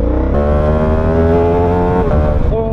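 Motorcycles rev loudly and close by during a ride at Mount Charleston, a steady droning engine roar that rises and shifts pitch as throttles are opened, with no talk over it.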